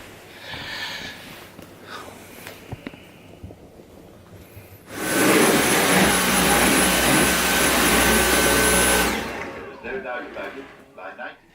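A vacuum cleaner switches on and roars loudly and steadily for several seconds, then cuts off, with quieter shuffling sounds before and after, as a puppy pounces at it.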